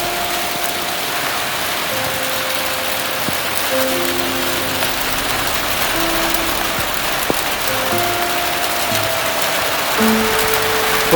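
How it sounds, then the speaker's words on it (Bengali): Rain patters steadily on a rooftop as a soft, even wash of drops, with faint tonal sounds drifting in and out and no one talking. "রিমঝিম শব্দ শুনি।"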